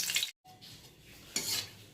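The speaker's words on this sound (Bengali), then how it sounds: "একটু গোটা সাদা জিরে আর তেজপাতা দিয়ে দিলাম ফোড়নে।" Whole cumin seeds and bay leaves hit hot oil for tempering in a home kitchen, giving a brief crackling sizzle that drops out for a moment, then returns with a louder burst near the end.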